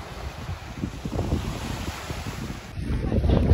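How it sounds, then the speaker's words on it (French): Steady wind gusts buffet the microphone by the sea on Mykonos, with a broad rushing roar and low rumble of surf or a boat building slightly toward the end; no one speaks. "De toute façon, il y a du vent."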